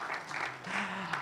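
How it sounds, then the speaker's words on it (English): Audience applause and cheering at a dinosaur-themed Sunday Q&A event, a brief burst of clapping that follows a child's roar, with a voice rising over the crowd near the end. "Give him a big round of applause."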